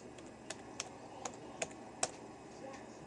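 Light, quiet keystrokes tap on a computer keyboard as text is entered, a handful of separate clicks spaced unevenly across a few seconds in a quiet room.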